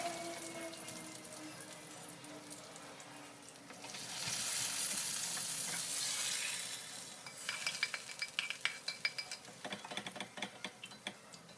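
Raisins and cashews roasting in a small pan for payasam, a quiet sizzle that swells for a couple of seconds, then gives way to a run of light scraping and ticking stirs.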